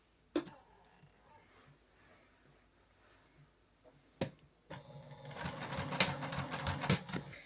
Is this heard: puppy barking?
no